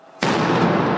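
Sudden loud blast during a street protest on the Champs-Élysées in Paris, followed by a sustained roaring, crackling wash of noise, close and without talk.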